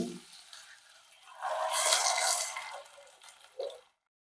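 Spiny gourd and jackfruit seeds stirred in a hot pan: a soft, wet sizzling hiss that swells, peaks and fades over a few seconds, close and fairly quiet.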